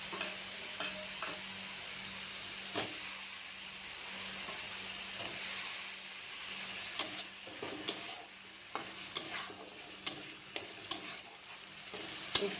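Eggplant pieces fry in oil spiced with ground coriander on a gas stove, a low steady sizzle that gives way to rhythmic scraping taps of a spatula stirring the pan.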